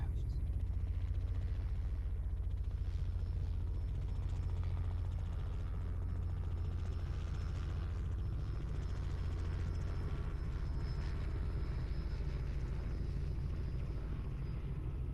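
A Robinson R66 helicopter heard from the ground on its left side gives a steady low rumble with a continuous rotor and turbine drone that stays fairly quiet and even throughout.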